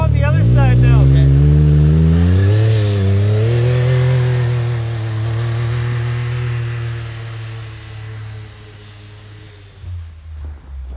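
A Can-Am Maverick X3 side-by-side engine revs hard in snow, its pitch climbing through a gear change before settling into a steady drone that fades toward the end, loud and close with no talk.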